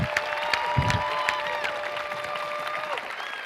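Crowd applause for robotics teams at a FIRST Tech Challenge Rover Ruckus state championship, sustained clapping through a large hall with whistles and tonal cheers rising above it.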